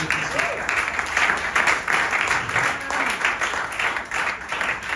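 A congregation applauding in church, sustained thick clapping from many people filling the room, with a voice or two faintly rising beneath it.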